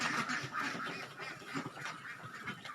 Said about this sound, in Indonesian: Ini kebetulan Mbah Mukhlasin juga pelihara bebek.